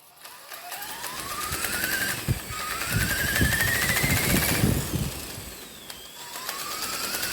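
A Blade 330S RC helicopter with a warped main gear spinning up, its rotor whine rising in pitch in repeated climbs over a buzzing mechanical rattle, close and steady with no talk.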